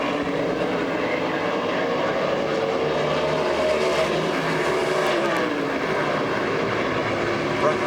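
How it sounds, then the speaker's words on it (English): NASCAR race trucks roar around Nazareth Speedway in 1996, a continuous loud engine drone from the pack with shifting pitch as they work through the corners, with commentary voices layered over the noise. "That truck is really burying itself down in the corner."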